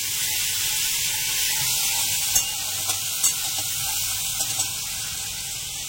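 Potatoes for aloo dum sizzle steadily in a pan, with a few sharp scrapes and clinks of a stirring spoon against the vessel over the constant frying hiss.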